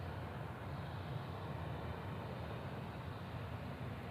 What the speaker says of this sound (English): 146 over here now, coming on the parallel runway, one of the ASL airlines